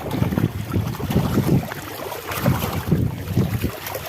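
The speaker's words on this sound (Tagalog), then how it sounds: "sobrang lakas na yung alon at ano ah, hangin" Strong wind buffets the microphone in gusts over the rough wash of waves at sea off an island, loud and continuous throughout.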